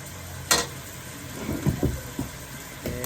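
Beef being stir-fried in a pan with dark soy sauce gives a soft background sizzle, broken by a sharp clank near the start and a few light scraping knocks of a utensil against the pan.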